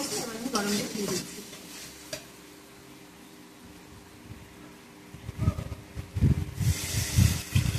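Hot water is poured into a pan of fried potatoes and spices, setting off a burst of hissing and bubbling sizzle after a quieter stretch of frying, with a voice speaking at the start.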